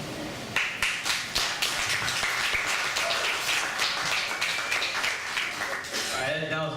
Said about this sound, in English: Come on, everyone, give him a nice round of applause.